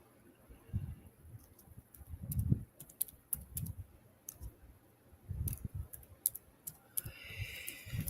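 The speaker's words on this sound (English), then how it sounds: "when I type in something, hopefully it will type in what I'm looking for." Keys clicking on a computer keyboard, faint and irregular, with scattered taps and short bursts of typing heard close in a quiet room, no talking.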